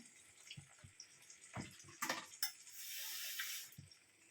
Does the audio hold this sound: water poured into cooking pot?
yes